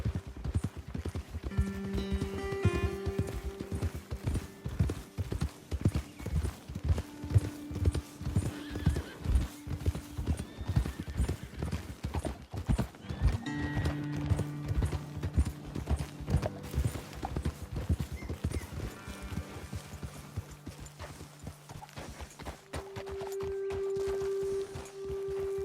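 Horses in the Red Dead Redemption video game clop along in a steady, dense hoof rhythm close by, with neighs and whinnies breaking through and musical tones running underneath.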